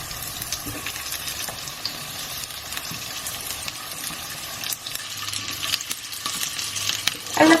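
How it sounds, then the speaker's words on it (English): Baby potatoes fry in butter with a steady, close sizzle throughout, broken by a few soft scrapes and knocks as they are flipped, getting louder and busier near the end. "I'm just going to fry these potatoes till they turn slightly brown on one side"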